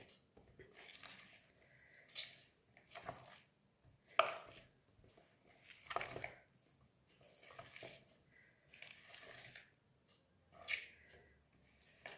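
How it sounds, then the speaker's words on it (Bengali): A spoon gently folds cauliflower florets through batter in a bowl for gobi manchurian. Faint, soft, wet squishing and scraping strokes repeat at an unhurried pace, with no talking. "আমি একটা চামচের সাহায্যে আস্তে আস্তে করে সব ব্যাটারটা এর গাল যাতে মেখে যায়"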